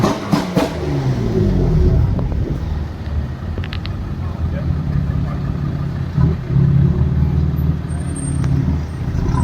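Porsche 911 Turbo S supercar at a Bangalore supercar gathering, its engine a loud steady rumble with a rising rev near the start, under crowd noise and voices.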